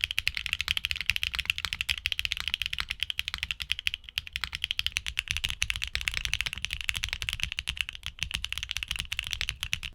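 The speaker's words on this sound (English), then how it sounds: "Featuring a live stem, they produce a solid clacky sound with each keystroke." Rapid, steady typing on a mechanical keyboard with HMX live-stem switches, each keystroke a crisp, clacky click in a dense, continuous stream, close and alone.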